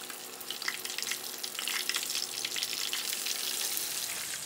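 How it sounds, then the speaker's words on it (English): Fish frying in hot oil in a pan, a steady close crackling sizzle with bursts of spitting, continuous and alone. "put the fish tail into the oil for about 30 seconds before flip the fish"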